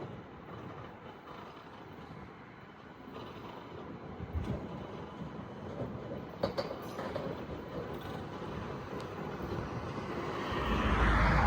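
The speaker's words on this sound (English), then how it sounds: "This metro train is leaving the maintenance centre building after being worked on for whatever reason" Sydney Metro train rolling out of a maintenance centre building into an open yard, a steady low rumble with occasional clanks and squeals, swelling louder toward the end as it draws nearer.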